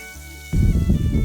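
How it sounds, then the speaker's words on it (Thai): Pork belly stir-fried in a pan for a Thai herb dish, a sudden loud wash of sizzling and scraping that bursts in after a quiet half second and keeps crackling steadily up close. "ผัดไปเรื่อยๆ นะคะ ผัดจนกว่าหมูของเราจะเปลี่ยนสีเป็นเหลืองทองนะคะ"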